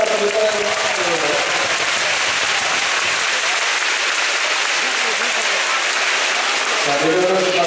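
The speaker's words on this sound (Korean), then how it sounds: "이민규 선수에게 격려의 박수 한번 부탁드립니다" A crowd at a Korean pro volleyball match applauds an injured player. The dense, steady clapping fills the arena, and an announcer's voice is heard over it at the start and again near the end.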